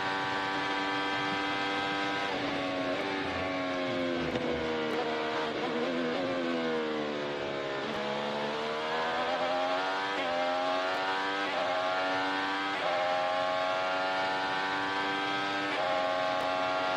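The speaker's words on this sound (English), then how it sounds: "riding on board with the greatest there has ever been in qualifying in IndyCar, Will Power." An IndyCar engine screams through a qualifying lap at Portland, heard onboard, its loud, steady high whine rising and falling with upshifts and downshifts through the corners, running the whole time with no talk.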